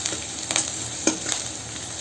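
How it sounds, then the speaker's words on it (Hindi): Chopped ginger and garlic frying in hot oil while being stirred, a steady close sizzle with a few sharper spatters and stirring scrapes, no voices. "चॉप जिंजर गार्लिक, तो बढ़िया से फ्राई करेंगे।"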